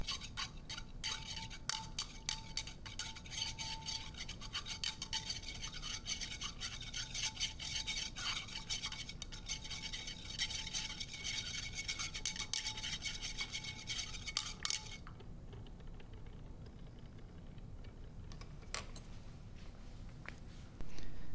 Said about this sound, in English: I'm using a stir rod because the magnetic stir bar is not good by itself